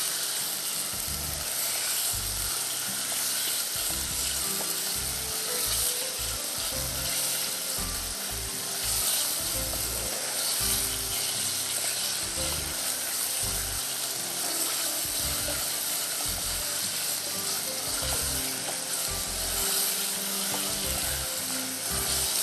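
Fries sizzle steadily in hot cooking oil, a dense, continuous crackling hiss that stays loud and even throughout with no voices over it.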